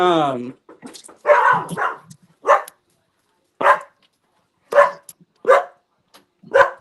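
A dog barks repeatedly at a door, sharp single barks spaced about a second apart after an opening whine, loud and close with no talking over them.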